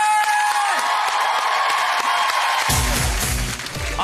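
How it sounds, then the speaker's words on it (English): A studio audience at a Christmas entertainment TV show bursts into loud applause and cheering partway through, following a steady tonal backdrop, with the clapping crowd filling the rest of the clip. "a massive round of applause for Amy-Leigh Hickman!"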